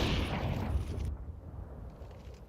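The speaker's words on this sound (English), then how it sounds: "Great nade back though." A grenade blast in Counter-Strike on the Inferno map, a rumbling low boom that swells over the first second, then cuts to a duller, muffled decay.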